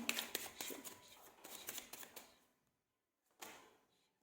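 Tarot cards are shuffled with quick, close riffling and flicking for a couple of seconds, then a pause and one more short card snap, faint and without talk.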